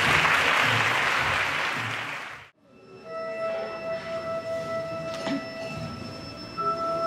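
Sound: applause for the pupils

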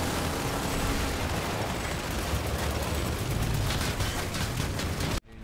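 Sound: anti-vehicle gunfire in the video game Planetside 2

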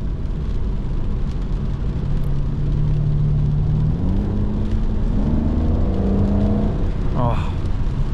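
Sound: sports car engine at low RPM

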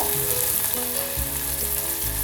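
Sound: cubed onion frying in hot spices

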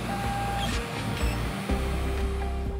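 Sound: delta 3D printer running

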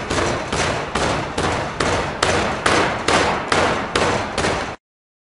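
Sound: ramming sand tight into a casting flask box

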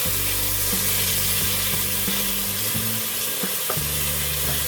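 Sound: smoked bacon frying in a pan

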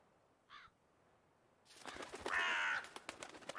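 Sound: bird cawing in a video game

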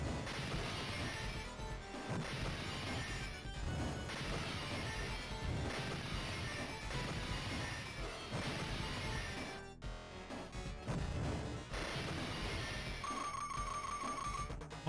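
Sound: glass breaking in Final Fight video game bonus minigame

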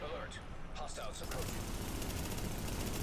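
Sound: gunfire shooting the boss, from the video game The Division

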